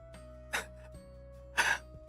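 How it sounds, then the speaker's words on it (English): A person coughs and chokes on a cough drop, giving two short, harsh throat bursts separated by a pause, close and fairly quiet over a steady electronic hum. "Not me choking on a cough drop right now."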